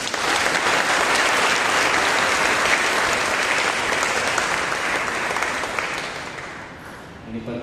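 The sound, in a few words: church congregation loud applause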